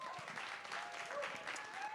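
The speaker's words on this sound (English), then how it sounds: "Can we have a massive round of applause" A live audience at a music venue applauds to welcome a debut performer, a steady, moderately loud wash of clapping that continues throughout with faint voices mixed in.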